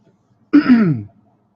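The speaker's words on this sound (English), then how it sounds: "Clearing my throat there." A single short throat clearing, close and distinct, lasting about half a second in otherwise quiet surroundings.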